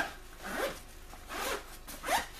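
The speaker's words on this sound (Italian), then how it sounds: "Le zip sono buone, aprono e chiudono senza problemi." Zipper on a Quechua Decathlon backpack pulled open and shut in three close, rasping strokes, each a brief loud zip with short pauses between, heard alone.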